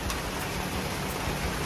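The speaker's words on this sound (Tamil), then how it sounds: "எப்படி மழை அடிக்குதுன்னு பாருங்க." Heavy rain pours down in Colombo, Sri Lanka, a dense steady hiss of falling water heard nearby without pause and no voices over it.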